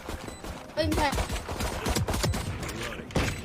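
Shots in the tactical shooter Valorant crack out in quick irregular bursts, fairly close and sharp, mixed with game effects and a voice talking over the gunfire.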